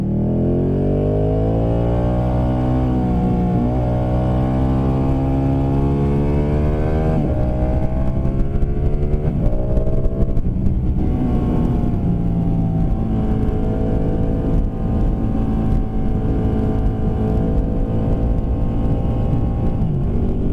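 A motorcycle engine accelerates while riding, loud and close, its pitch climbing through successive gear changes in a continuous, strong roar with wind rush.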